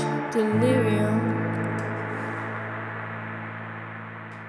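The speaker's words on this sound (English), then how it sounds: "the wonderful audio technology Ancient Echoes. It's a blend of reverb and delay." A short piece of music played through an Ancient Echoes effect that blends reverb and delay, heard as sustained, wavering tones that swell briefly and then wash into a long, slowly fading reverberant tail.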